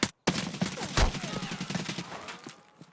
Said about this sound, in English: Look how many shots I have to dump into this PMC and he doesn't die